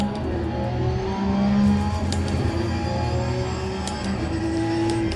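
A GT3 race car in Assetto Corsa Competizione accelerating out of the Monza pit lane, its engine a loud, continuous roar that swells briefly, then holds a strong, even drone, with no voices.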